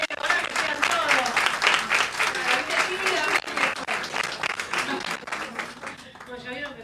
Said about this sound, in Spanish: Ahí tenemos un aplauso.